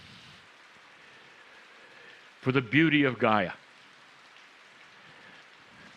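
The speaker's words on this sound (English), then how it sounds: "the rain which you hear now" Steady rain falls softly and continuously on surfaces, a faint even patter that is briefly covered by a person speaking a few words.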